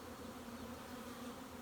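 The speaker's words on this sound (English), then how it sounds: "I'm just loving the sound of those bees just humming through the trees" Honeybees in a beeyard hum steadily among the trees, a faint, continuous buzzing drone that stays even and unbroken throughout.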